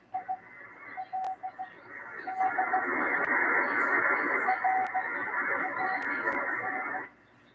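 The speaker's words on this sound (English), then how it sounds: "There's Morse code on 6905 upper sideband that just popped up." Short bursts of Morse code on shortwave radio, tuned to 6905 upper sideband, beep as thin steady tones. They ride over a band of hissing static that swells up after the first few seconds, then cut off sharply near the end.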